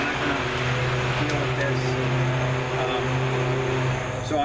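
Road traffic near a campsite rumbles in the background, a steady engine drone with a sustained low hum from passing vehicles, continuous and moderately loud.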